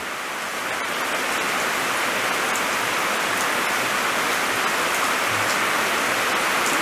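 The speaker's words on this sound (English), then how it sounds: "here comes the rain again." Steady rain falls outside, a dense, even hiss of drops on surfaces with occasional louder patters, continuous throughout without voices.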